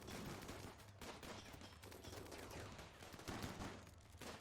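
Rimworld combat fills the scene with dense, rapid gunfire, a continuous rattle of overlapping shots and bursts, loud and unbroken.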